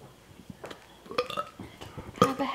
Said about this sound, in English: Hold on, I just burped.